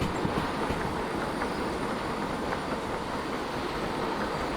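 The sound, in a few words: freight train running with brakes on, video game Derail Valley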